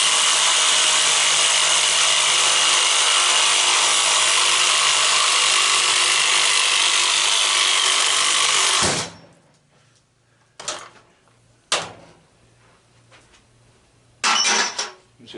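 A saw with a carbide blade cuts through an electric motor being scrapped for its copper, a loud, sustained grinding screech lasting several seconds, then stopping, followed by a few short bursts of cutting and clanks.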